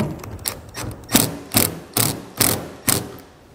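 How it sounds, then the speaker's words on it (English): A ratchet tightens the rear rail clamp of a TruXedo TruXport soft roll-up tonneau cover on a pickup bed, making about six loud, evenly spaced clicking pulls close by. "we're just going to slide those all the way to the rear position on our rail here and then tighten it down"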